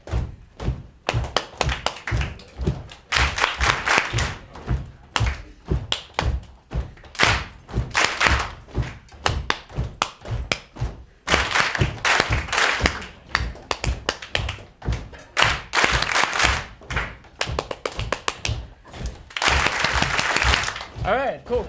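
A live-show audience claps along in rhythmic bursts, loud sharp claps in repeated patterns with brief pauses between rounds, with voices mixed in.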